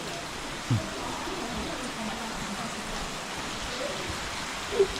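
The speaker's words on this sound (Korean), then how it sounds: "지금 비가 와가지고 물이" Rain and falling water in Zhangjiajie Grand Canyon make a steady hiss, with a couple of brief louder knocks or drips standing out.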